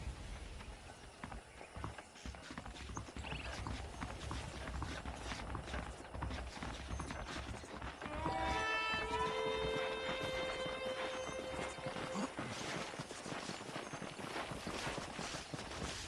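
Horse hooves clip-clop steadily in the Red Dead Redemption 2 video game, a continuous moderate trot mixed with faint game ambience and a brief metallic chime midway.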